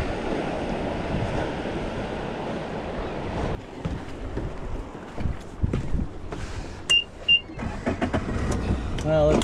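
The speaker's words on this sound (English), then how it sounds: "The spot when the big waves are coming in." Big ocean waves rolling in at a channel mouth, heard as a broad wash of surf with wind and boat noise, fading partway through while someone speaks briefly.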